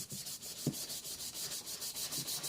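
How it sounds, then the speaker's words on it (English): Quick, even sandpaper strokes scrub across an Opinel No. 09 carbon steel folding knife being customized, a steady back-and-forth rasp repeating about five times a second, close and alone. "I'm going to go ahead and just get it all sanded down"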